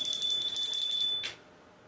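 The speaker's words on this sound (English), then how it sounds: "I have this mini bell that I had from like a while ago, so I'm gonna use that" A small handheld mini bell rings continuously in rapid, bright, close jingles for just over a second, then stops and fades into silence.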